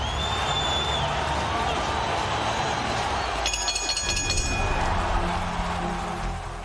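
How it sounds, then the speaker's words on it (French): A packed boxing arena crowd at the end of a twelve-round Canelo versus GGG title fight roars and applauds in a continuous wash of cheering, with a commentator's voice talking over it. "Le combat prend fin comme il a commencé, sous les applaudissements."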